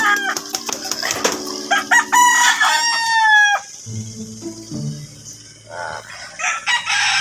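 Fighting roosters in a rural provincial backyard crow loudly and repeatedly, with several drawn-out calls overlapping and clucking between them, close by and alone without talk.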